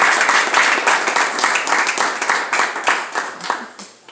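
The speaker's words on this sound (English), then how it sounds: "So can you give the CO an applause?" Audience at a clergy council holiday brunch applauding the commanding officer of the 49th Precinct, sustained lively clapping from a sizable crowd with distinct individual claps, gradually thinning toward the end.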